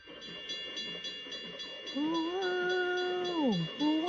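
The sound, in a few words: train passing a railroad crossing in Planet Coaster video game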